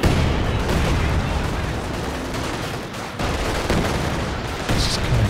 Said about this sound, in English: Just kind of coming down to mortar hits at this stage